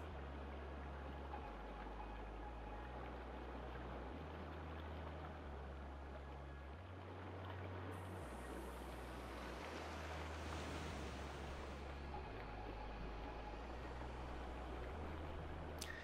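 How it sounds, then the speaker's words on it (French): A steady wash of water and wind, like a boat moving across waves in the Roblox game Theme Park Tycoon 2, with a brief swell of hiss partway through; no talking. "on entend déjà beaucoup trop le bateau qui est juste à côté"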